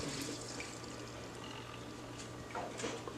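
Water pours into a pan of rice for cooking, a steady close trickle and splash running throughout with a low hum underneath, and no talk.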